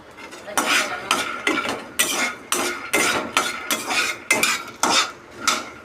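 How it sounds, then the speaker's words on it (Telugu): Peanuts being roasted in a pan, stirred with a metal spoon in a steady rhythm of close scraping and clattering strokes, roughly ten in a row. "ఇలా మంచిగా వేయించుకోవాలి"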